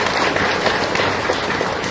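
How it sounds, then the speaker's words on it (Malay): A studio audience applauds a guest, a dense, steady wash of clapping that stays loud and even throughout with no pauses. "Kita berikan tepukan kepada"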